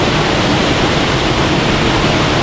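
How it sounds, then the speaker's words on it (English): Heavy river water rushes over rocks in the Scafell fells, a dense, loud, continuous roar of white water close by with no voices. "There's usually not as much water coming down as that"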